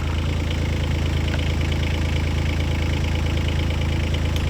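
A mini digger's engine runs steadily while the machine tracks backwards, a close, continuous low rumble with an even idling pulse and faint mechanical knocking throughout, no voices.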